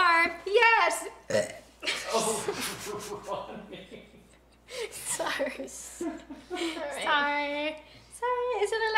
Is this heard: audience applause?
no